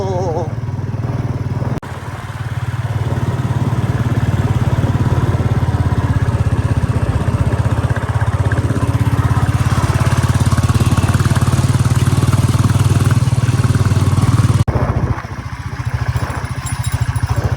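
Motorcycle engine running steadily and loud on a badly broken, waterlogged road near Dehradun, a rough rumbling drone that fills most of the clip, with brief quieter moments and some talk at the start and end.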